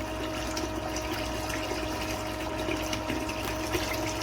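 Water rushes steadily through mining equipment washing magnetite-rich material, a continuous dense gushing and churning noise with a low pump hum underneath, close and unbroken.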